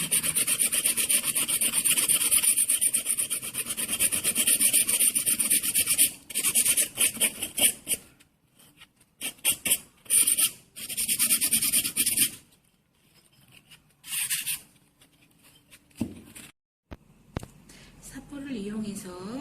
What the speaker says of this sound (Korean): 사포를 이용해서 4개의 면을 깨끗이 제거를 했습니다.